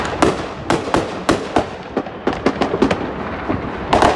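New Year's fireworks and gunfire around Houston, Texas: a rapid series of sharp, loud cracks and bangs, some near and some more distant, echoing with no talk.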